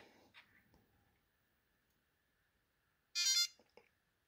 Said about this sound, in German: Dann müsste das Gerätchen ja aufpiepsen.